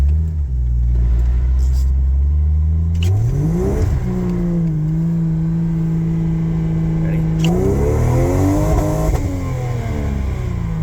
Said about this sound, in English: I'll show a little bit of the throttle response here